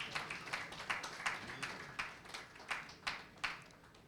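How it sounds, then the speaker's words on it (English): Sparse, scattered clapping from a small panel audience welcoming entertainment lawyer Yemisi Falaye, faint and somewhat distant, with individual claps standing out rather than merging into a roar. "A round of applause for her, please."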